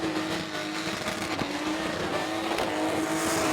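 A blown 202 cubic inch six-cylinder ute revs hard at a burnout competition at Perth Motorplex, a loud, sustained high-RPM engine wail with tire squeal and crowd-scale roar, no talk.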